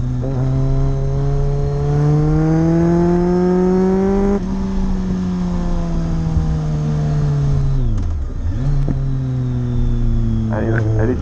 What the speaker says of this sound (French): il est arrivé avec sa Mustang GT V8 5 litres rouge